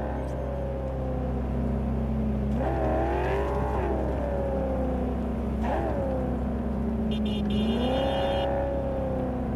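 A car in Cyberpunk 2077 rolls along with a steady engine hum, rising in pitch three times as it revs and eases back, close and continuous throughout with no talking.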